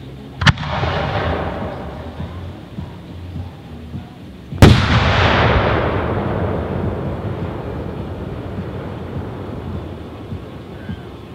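An 8-inch Dominator Super Brocade 1.3 aerial firework shell at a Casabella demo: a sharp distant thump, then a loud burst about four seconds later that trails into a long crackling, rumbling hiss.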